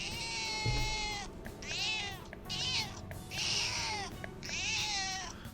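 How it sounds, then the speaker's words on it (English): Mona the cat in Persona 5 Royal gives a string of about five cute meows from the game controller's speaker, each drawn-out and separated by short gaps, clear and fairly close. "It doesn't really do anything other than just make cute little cat noises"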